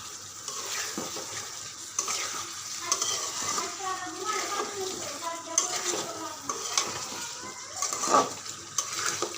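Ground spices for potato curry sizzle in a hot pan while a spoon scrapes and stirs in busy, irregular strokes close by.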